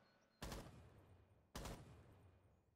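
Video game gunfire: two loud, sharp gunshot blasts about a second apart, each trailing off into a short decay, with no talking.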